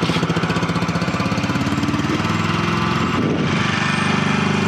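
Pony 50cc scooter engine idling while warming up, a fast, steady, fairly quiet buzzing putter heard close by, with a slight wobble in its pitch.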